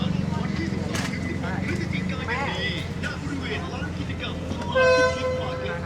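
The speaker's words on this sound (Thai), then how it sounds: "นี่ก็รถไฟกำลังออกตัว" A long train horn blast sounds near the end as a train departs, over a busy, noisy scene with people talking throughout, the tone steady and fairly loud.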